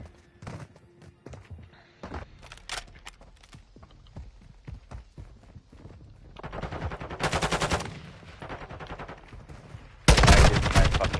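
Rapid bursts of automatic gunfire from Modern Warfare 2, sporadic shots building into dense, loud sustained fire near the end, with no talk.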